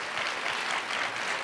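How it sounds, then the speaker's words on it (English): Audience applause greets two guests welcomed onto the stage at a member speaker series on holiday decorating, a steady wash of clapping sustained through the short moment with no voices over it. "So please give them a round of applause."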